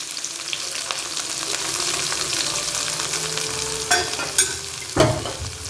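Garlic cloves and chopped onions fry in a pan with a steady, close sizzle, and a few louder stirring scrapes and clatters land near the end. Nobody talks.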